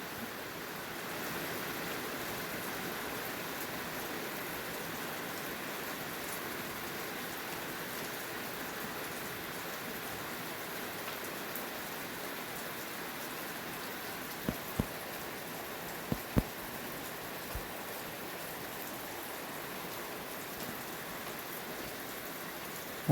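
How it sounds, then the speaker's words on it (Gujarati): Steady light rain falls in the Gir forest, a constant even hiss of drops on surfaces with a few sharper close taps near the middle, heard alone without voices. "વરસાદ ચાલુ છે અને આપણે દૂધ ઊનું કરીશી."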